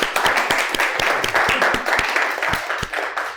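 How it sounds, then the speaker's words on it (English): Lecture hall audience applause after a talk on modern text-to-speech, a steady wash of many hands clapping at close range with no voices over it. "So again, another round of applause."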